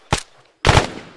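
Two close, loud bursts of gunfire in the military shooter Arma 3 on Tanoa: a short sharp shot, a brief pause, then a longer rattling burst that trails off into a faint echo.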